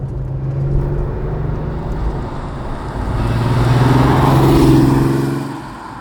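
A Porsche 964 RS being driven on a dry road, its engine a steady low rumble that swells and rises in pitch as it accelerates through the middle, then eases off near the end.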